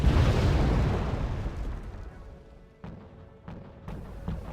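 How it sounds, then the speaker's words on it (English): Mortar rounds in the Wargame: Red Dragon strategy game: a heavy, rumbling blast that slowly fades, followed by a few sharper, lighter impacts spaced out in the distance. "they're trying to mortar here to soften them up"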